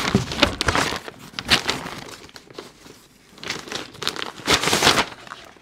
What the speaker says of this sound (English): I feel like I'm unwrapping a gift.